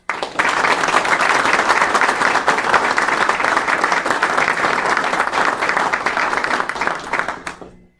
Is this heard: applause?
yes